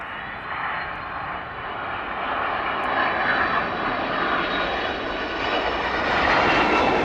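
A Boeing 767 arrives at East Midlands Airport, its jet engines a continuous, loud whining roar that builds gradually as it nears, with no voices over it.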